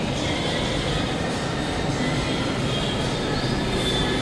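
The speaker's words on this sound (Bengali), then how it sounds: "এই যে ট্রেনটা দেখতে পাচ্ছেন, এটাই কিন্তু আবার ঘুরে আসবে।" A Kolkata metro train at a station fills the air with a continuous loud rumble and whooshing roar, with faint wheel squeal rising near the end and no voices.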